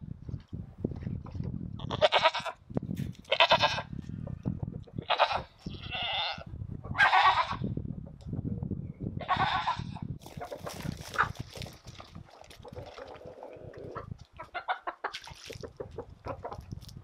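Goats on a homestead bleat loudly in repeated calls, mixed with chickens clucking and other farm animal noises, and a voice speaks occasionally among them.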